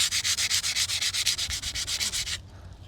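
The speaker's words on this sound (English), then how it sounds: "My sandpaper is getting clogged up with old barnacle guts." Sandpaper clogged with old barnacle residue is rubbed by hand over a Mercury 15 hp two-stroke outboard motor, about twenty quick, even back-and-forth strokes, close and crisp, before stopping abruptly near the end.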